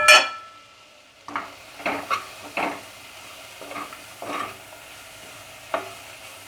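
Onions with salt and turmeric fry in a pan, a soft sizzle beneath repeated scraping strokes of a spoon stirring, spaced every half second or so; one brief word is spoken at the start.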